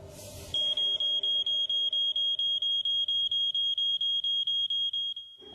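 A loud smoke alarm sounds as part of staged effects simulating a hotel kitchen fire. Rapid, steady high-pitched beeps repeat about four times per second for five seconds, close and alone.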